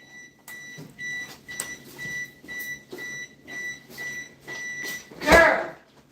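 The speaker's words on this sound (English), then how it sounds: "She done left the refrigerator open, Jesus. And it's beeping up some." A refrigerator's door-open alarm beeps repeatedly at a steady rhythm, sounding close by, ending with a louder burst of noise.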